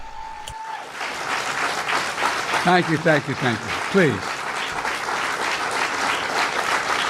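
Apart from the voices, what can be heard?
looping canned applause clap track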